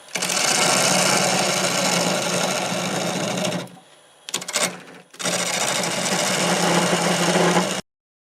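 A wood lathe turns a dry maple burl without the tailstock, a loud steady whirring hum with gritty cutting noise that stops, sputters briefly, then resumes before cutting off.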